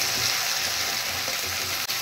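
Spice paste frying in hot oil, a dense, loud hissing sizzle close up with soft bubbling pops, steady across the whole moment and ending in a brief sharp clack.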